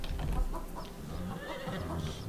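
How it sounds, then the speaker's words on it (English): Chickens cluck in a coop in the video game Stoneshard, a busy cluster of short fowl calls and squawks layered over steady game background noise, close and moderately loud throughout. "You can hear, even hear the clucking."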